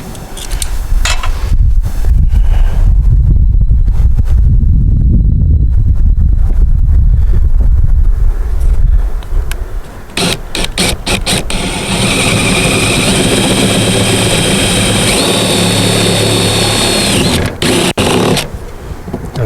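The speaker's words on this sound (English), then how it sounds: "we're going to drill that hole right there that we previously put in" A power drill bores a half-inch hole for a security light's power supply wire, a loud close whirring drone that starts around halfway and runs steadily to the end after a stretch of rumbling, windy noise.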